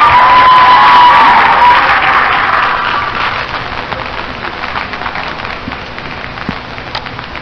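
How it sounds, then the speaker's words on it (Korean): Audience applause and cheering fill a public radio broadcast taping, loud at first, then thinning and fading to a lighter patter over several seconds. "여러분 큰 환영의 박수로 만나주십시오."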